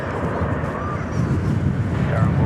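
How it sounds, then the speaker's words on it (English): Gusty wind blows across an open airport, buffeting the microphone with a low rumble that strengthens toward the end, while distant aircraft noise sits faintly underneath. "it's gotten a lot windier"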